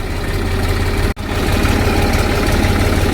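A farm tractor's engine idles close by with a steady low rumbling drone, broken once by a very brief dropout, with no talking.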